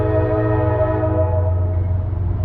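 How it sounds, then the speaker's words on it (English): A train blows a loud, steady horn nearby, one sustained blaring chord that holds throughout over a low rumble of the passing train. "Okay, here comes the train."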